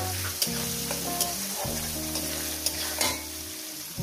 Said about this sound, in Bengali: পেঁয়াজ কুচোটাকে দিয়ে মিনিমাম দু তিন মিনিট ভেজে নেব